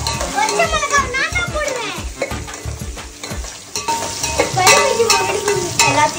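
Onions fry in a pan while being stirred, a loud close sizzle with repeated scraping strokes of a spoon, and children's voices chatter intermittently over the cooking.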